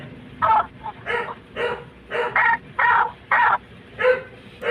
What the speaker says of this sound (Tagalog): Ngayon naman ang aso dito sa amin.